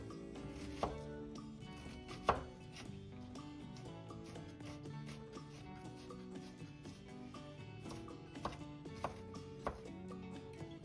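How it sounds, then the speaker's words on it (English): A dull kitchen knife chops food on a cutting board in a quick, rhythmic run of soft thuds, fairly quiet and close, with a few sharper knocks over gentle background music. "I was realizing while chopping this how badly my knife needs sharpened."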